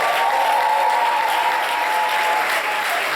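A church congregation applauds and cheers in praise of God, with steady, dense clapping and crowd acclaim filling the room and a sustained voice or tone running underneath throughout.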